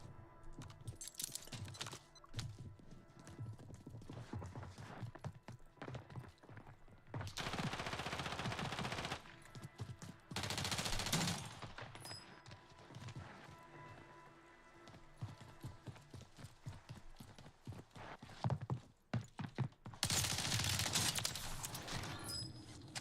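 Gunfire in a battle royale video game cracks out in repeated sharp bursts, some in quick clusters. The shots are heard over intermittent background game noise.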